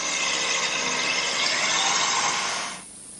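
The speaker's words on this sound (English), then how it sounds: "drill a 1/4 inch hole through to the dowel hole" A power drill whirs steadily at close range for nearly three seconds, boring a quarter-inch hole through wood, then cuts off abruptly, leaving a quiet room hum.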